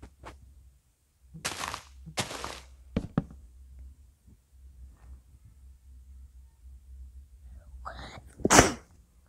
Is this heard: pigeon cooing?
no